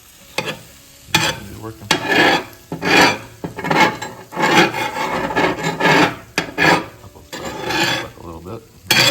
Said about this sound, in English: I'm gonna use a metal spatula and stir them up